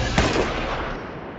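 Gunfire from an action scene in a virus outbreak film, heard as a dense, continuous wall of loud noise with one sharp crack near the start, with no voice over it.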